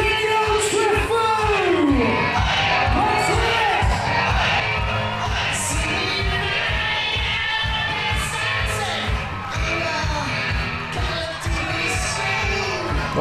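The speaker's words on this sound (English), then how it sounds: "Oh, just listen to the crowd" A crowd at a karate world championship cheers and yells in a loud, continuous roar, with whoops rising over it and an announcer's voice mixed in.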